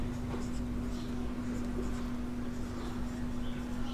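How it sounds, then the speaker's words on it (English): Pen or chalk writing by hand during a geography lesson, a soft continuous scratching under a steady background hum, faint and close, with no speech. "So here we write trends"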